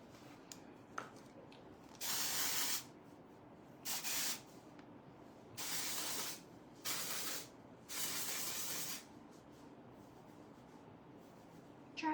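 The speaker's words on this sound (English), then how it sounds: "you spray dry shampoo and you run a board bristle" Dry shampoo sprayed onto hair from an aerosol can in five close, hissing bursts of one to two seconds each, separated by short quiet gaps, with no talking.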